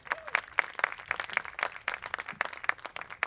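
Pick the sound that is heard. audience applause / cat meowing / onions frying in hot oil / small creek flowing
audience applause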